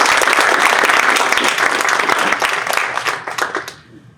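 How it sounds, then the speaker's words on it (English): An audience at a TIW Capital Group talk for the ICAI Singapore chapter applauds a speaker, dense sustained clapping from many hands that holds strong and then tapers off toward the end. "Guys, please give a round of applause to Mr."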